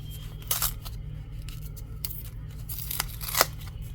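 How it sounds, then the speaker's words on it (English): Scissors snipping through crochet yarn from an amigurumi elf kit, several crisp close cuts at uneven intervals over a steady low hum, no talk. "So I'm just gonna cut this up"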